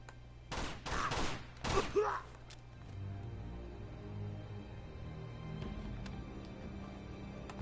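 Gunfire in the video game Uncharted 2: Among Thieves, a few loud sharp bursts of shots close together early on, then fading into quieter game ambience with only faint scattered hits.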